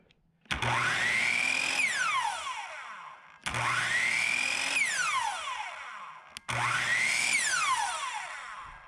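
A power tool motor with a faulty switch spins up three times, each run whining at high pitch and then cutting out as the switch reaches the middle position, with the pitch sweeping down before a short pause.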